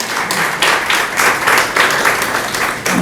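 A live audience gives loud, sustained applause for a poet's ghazals at an evening poetry gathering. Dense clapping fills the whole stretch, swelling and easing in waves.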